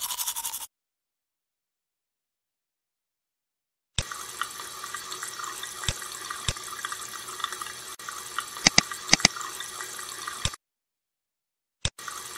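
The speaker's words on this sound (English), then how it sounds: "That's my sink." Cartoon sink water runs in a children's bathroom video game, a steady bright splashing stream that starts and stops abruptly with short silent gaps and a few sharp clicks.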